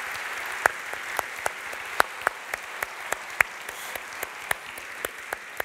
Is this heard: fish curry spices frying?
no